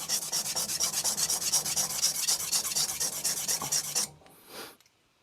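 An Aogami 2 bunka knife, a Hatsukokoro Kurogane, is rubbed for thinning on a Shapton Glass 220 stone. A steady run of quick, even, close rasping strokes ends after about four seconds, followed by one fainter final scrape.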